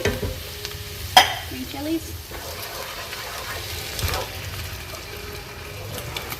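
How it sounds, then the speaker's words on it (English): Two cans of diced Rotel tomatoes with green chilies are stirred into keto chili sizzling in a pot, with one sharp clatter early on, then a steady fry hiss and soft scraping stirs. "we're going to add 2 cans of Rotel tomatoes, or diced tomatoes with green chilies"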